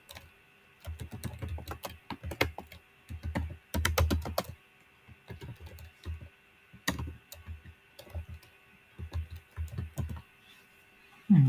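Typing on a computer keyboard while writing a CV, bursts of rapid close key clicks separated by short pauses, with occasional louder single keystrokes.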